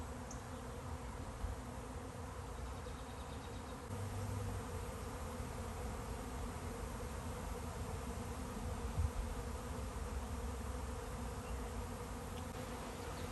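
Dense, continuous buzzing of a swarm of about 30,000 honeybees, a steady droning hum that fills the whole stretch without pause.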